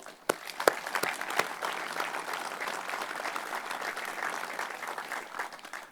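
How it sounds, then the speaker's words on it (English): Applause from an audience at a community centre grand opening, breaking out with a few sharp claps and then settling into steady, moderately loud clapping throughout. "I think they deserve all a round of applause"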